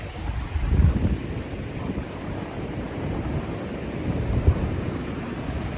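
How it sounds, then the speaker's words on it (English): Storm runoff rushes through a flooded creek in Southern California, a steady broad roar of churning water with gusty wind buffeting the microphone, continuous and close. "some water moving around."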